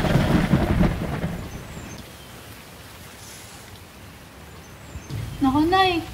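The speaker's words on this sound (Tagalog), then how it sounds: "Mukhang may bagyo." Thunder rumbles through a rainy storm, a heavy roll at the start easing into steady rain and wind before another loud rumble builds, with a voice-like tonal sound rising near the end.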